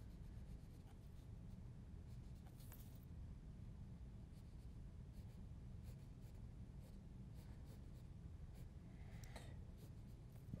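A graphite pencil scratches faintly across sketchbook paper in soft, continuous strokes with occasional brighter ticks, close but quiet throughout.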